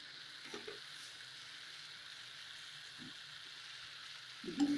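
Fish head and cabbage curry cooking in a pan gives off a steady, quiet sizzle throughout, broken by a few soft scrapes of stirring and a louder clatter of the utensil near the end.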